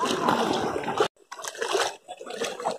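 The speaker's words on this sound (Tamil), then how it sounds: "இப்போ நானும் போய் தண்ணிக்குள்ளே இறங்க போகிறேன்" Feet step into a cold, pebbly river at Valparai, with close splashing and sloshing water broken by a short pause, busy and wet throughout.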